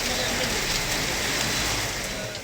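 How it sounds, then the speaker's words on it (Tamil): Heavy rain pours in Tamil Nadu as a dense, steady hiss of drops beats on surfaces, loud and unbroken throughout. "மின்னல் இடியோடு கனமழை பெய்தது"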